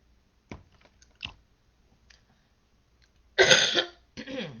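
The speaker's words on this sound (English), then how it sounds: "I have this cough" A few soft, scattered throat sounds lead up to a loud, harsh cough burst near the end, followed by a shorter one, close to the listener.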